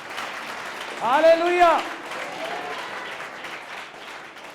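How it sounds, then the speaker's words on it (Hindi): A church congregation claps in a steady wash of applause, with one voice loudly calling out over it early on before the clapping carries on alone. "जोर से ताली बजाएं परमेश्वर।"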